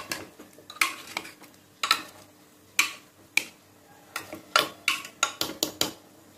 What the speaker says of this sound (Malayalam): പിന്നെ ഒന്ന് ഇളക്കി വിടണം.